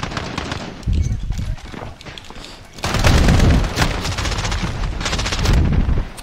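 Call of Duty multiplayer gunfire on the Shipment map comes in loud bursts of rapid shots, close and dense, with a louder stretch in the second half.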